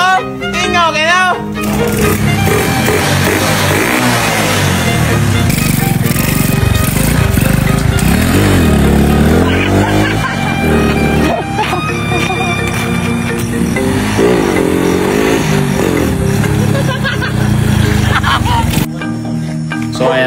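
A repaired small motorcycle engine runs loud and close with an uneven, rattly drone that rises and falls through a few revs. Excited voices talk over it.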